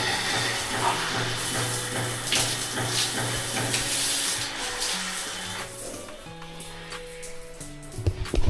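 Shower in a house in Nigeria running with strong water pressure, a steady broadband hiss of spray that stays loud for most of the stretch and then thins toward the end, with no talking.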